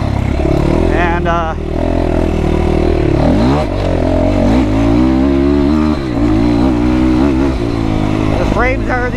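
The engine of a motorcycle, the 4-stroke counterpart of a TSE 250R, revs loudly and close up, rising and falling through several throttle blips, with a voice heard under it.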